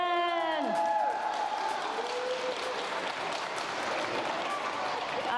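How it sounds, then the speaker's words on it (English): Audience applause and a few whoops for a team called Edison at a junior robotics competition, dense clapping filling the room while a voice calls out briefly at the start. "Another round of applause for"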